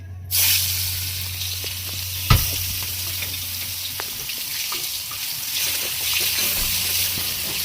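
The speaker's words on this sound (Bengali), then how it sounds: "এবার এর মধ্যে দিয়ে দেবো পেঁয়াজটা।" Onion dropped into hot oil already crackling with cumin seeds, a steady loud sizzle filling the whole stretch with one sharp clatter near the start and scattered spoon scrapes.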